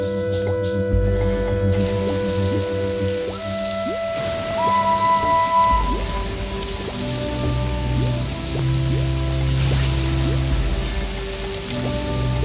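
Rain falls in the video game Wuppo as a steady soft patter and hiss that runs throughout, layered under game music with sustained tones.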